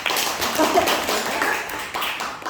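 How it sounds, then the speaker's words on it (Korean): Clapping from an audience at a skincare lecture, a loose patter of hands filling a couple of seconds, moderately loud with some indistinct voices mixed in. "박수 한번 칠까요?"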